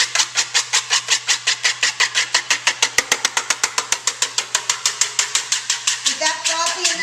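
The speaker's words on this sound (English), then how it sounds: "you're going to take that whisk and you're just going to beat the shit out of that. Make it nice and frothy." A whisk beats egg white in a bowl until frothy, a fast, even run of sharp clicking strokes that keeps going for several seconds, loud and close.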